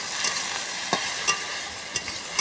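Okra and potato crackle as they are stir-fried in a pan, with a constant soft frying hiss and regular light scrapes and taps of the spatula.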